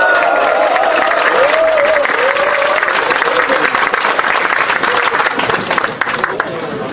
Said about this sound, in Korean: 우리 모든 동지의 힘찬 박수와 함성과 함께 회의를 선언하겠습니다